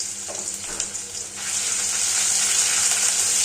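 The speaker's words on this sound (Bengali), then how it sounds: "সমস্ত মশলা ভালোভাবে একসাথে নাড়াচাড়া করে নেব" Garlic and dried chilli pastes are stirred together in hot oil, a few scraping stirs over a low sizzle that swells into a loud, steady hiss; no speech.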